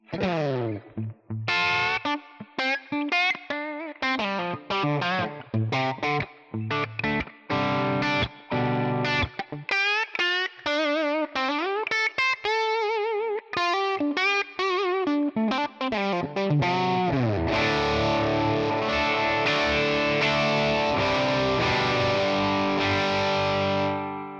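Electric guitar played through Tonex One character amp models with a distorted tone, loud and close: fast riffs and picked runs, then sustained ringing chords near the end, with echo and chorus effects and no talking.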